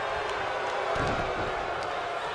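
A WWE 2K20 arena crowd roars in a dense, steady swell during a cruiserweight match, with a thud of ring action midway and a speaking voice over it.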